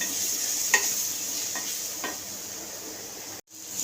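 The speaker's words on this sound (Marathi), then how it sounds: "हे सर्व टाकून आपल्याला एकजीव करून घ्यायचा आहे" Red chili powder, turmeric, onion-garlic masala and garam masala fry and get stirred together for a spicy brinjal curry, with a soft steady sizzle broken by a few light scraping taps of the spoon against the pan.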